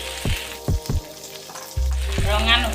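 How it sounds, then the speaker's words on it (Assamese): Onions and dried red chillies frying in a pan: a few dull knocks of a spoon against the pan, then a loud, steady sizzle that swells near the end. "এয়া জলকীয়া দিছোঁ, পিঁয়াজ দিছোঁ। অকণমান সময় ভাজি থাকিব লাগিব।"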